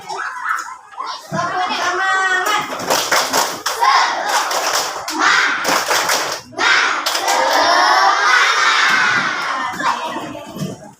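Elementary schoolchildren in a classroom chant and clap together in a rhythmic spirit-clap routine, loud shouted voices mixed with bursts of hand claps over about ten seconds.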